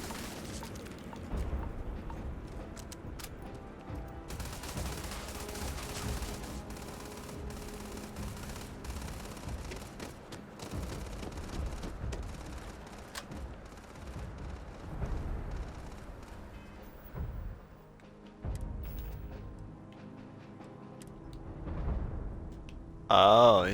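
A minigun in the game Starfield fires in long dense rattling bursts, loud and continuous for most of the stretch with brief gaps, mixed with game effects.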